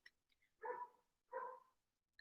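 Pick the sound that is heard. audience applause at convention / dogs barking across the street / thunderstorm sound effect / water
dogs barking across the street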